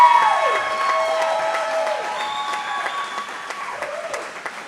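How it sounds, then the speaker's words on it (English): Audience at a sports talk show broadcast from a restaurant applauds, a steady burst of clapping that starts loud and gradually tapers off over a few seconds, with faint cheering mixed in. "let's give Bradley Stanier a big round of applause for his commitment to Kansas State University"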